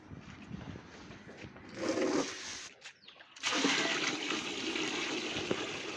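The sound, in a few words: water filling a 20-litre bucket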